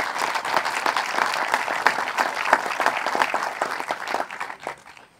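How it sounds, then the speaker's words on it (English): Audience applause for Hall of Famers at a golf Hall of Fame induction ceremony, a steady dense patter of many clapping hands that swells briefly and then tapers off toward the end. "How about a round of applause for all of the Hall of Famers that are here right now?"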